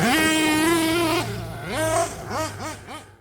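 A nitro-powered RC basher engine screams at high revs, then rises and falls in quick repeated throttle blips, loud and close with a buzzing whine and no talk.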